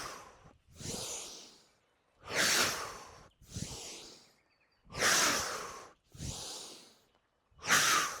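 Deep breaths from a Pilates class fill the clip: slow, airy inhales and exhales alternate in about seven close, even cycles with short silences between them, and no one speaks.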